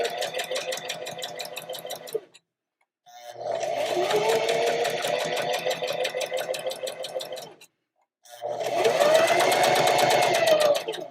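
A sewing machine topstitching a half-inch seam runs in three steady, fairly loud stretches of fast, even stitching, separated by short pauses, with no talk.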